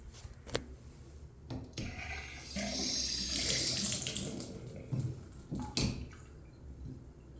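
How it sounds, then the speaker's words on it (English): Cold water runs from a tap in a steady hissing stream, with a few knocks and clatters around the sink, close by. "Looks like the cold water is working"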